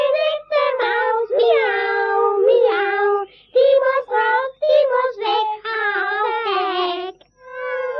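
Several voices imitate cats, meowing and yowling in long, sliding, sung cries that overlap and follow one another almost without pause, loud and close, with only brief gaps between phrases.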